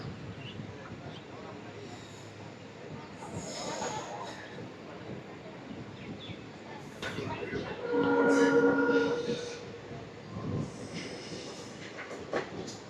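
The 16850 Rameshwaram–Tiruchchirappalli Express runs across the Pamban bridge with a continuous rolling rumble that swells loudest midway through, while people nearby talk over it.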